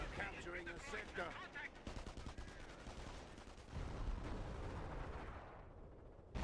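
Gunfire in a PhoenixMod tournament match, a busy battlefield mix of rapid rifle and machine-gun bursts with heavier booms, continuous and fairly loud under in-game voice callouts.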